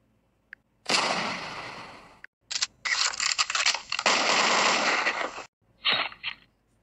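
Weapon sound effects from a mobile video editor's library: a single click, then loud bursts of rapid gunfire in several clusters separated by short silences, ending with a shorter volley.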